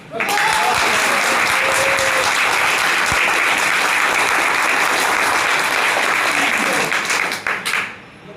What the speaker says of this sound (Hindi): और आप इतना तेज से ताली बजाइए